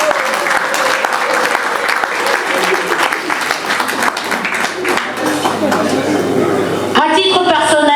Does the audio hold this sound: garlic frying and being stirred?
no